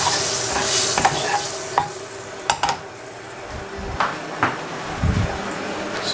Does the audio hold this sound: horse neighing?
no